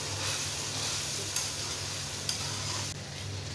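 Onions with ginger-garlic paste frying in a pot for a kasoori murgh chicken curry, a steady, fairly quiet sizzle with a low hum beneath and a couple of faint clicks as it is stirred.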